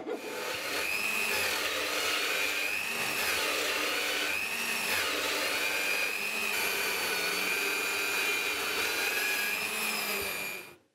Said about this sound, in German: Und dann bohre ich das Loch ganz durch